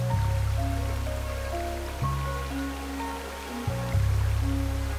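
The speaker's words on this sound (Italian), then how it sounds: "E questo fiume" Steady rush of flowing river water, a continuous dense wash with a few soft shifts in tone, close and even throughout with no voices.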